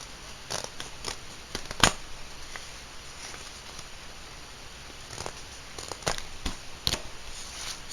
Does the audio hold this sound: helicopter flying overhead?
no